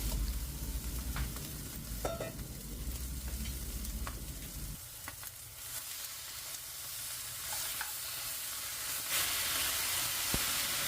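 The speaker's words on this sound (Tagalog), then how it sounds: "stir fry natin ito hanggang sa medyo mag-golden brown po yung ating chicken wings" Chicken wings stir-frying in a pan for a braised chicken wings with mushroom dish, a steady close sizzle that shifts partway through to a quieter, hissier fry as the pan is stirred.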